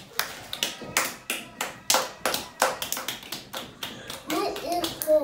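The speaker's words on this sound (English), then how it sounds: "Clap for yourself" Children clapping their hands at home during dinner, a string of sharp, separate claps in an uneven rhythm, close and fairly loud, with a voice briefly heard near the end.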